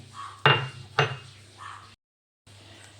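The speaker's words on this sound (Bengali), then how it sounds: "এবার আমি একটা চামচে করে ভালো করে এটা ঘেঁটে দিচ্ছি যাতে সুজিটার সাথে আর কি দইটা মিশে যায়" A spoon knocks and scrapes against a bowl while semolina and yogurt are mixed, with two sharp clinks near the start followed by softer scraping, a brief silence, then more stirring; close and fairly quiet.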